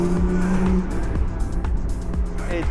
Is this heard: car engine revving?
yes